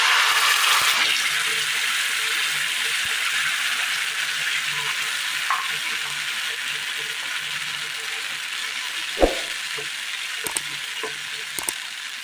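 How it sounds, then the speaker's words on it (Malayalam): Mashed banana mixture with boiled milk cooks in a pan, a steady loud sizzle that fades slightly over time, punctuated near the end by a few sharp spoon-against-pan clicks. "പാനിലേക്ക് നമ്മൾ അരച്ചു വെച്ചിരിക്കുന്ന ബനാനയുടെ മിശ്രിതം ചേർത്ത് കൊടുക്കാം"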